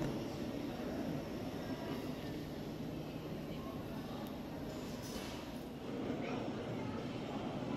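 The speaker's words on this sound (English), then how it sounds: "Planes are lining up and begin flying at 7 a.m." A steady, low jet-engine roar drones on without a break from Alaska Airlines jets taxiing at an airport, with distant whining rising and falling in the background.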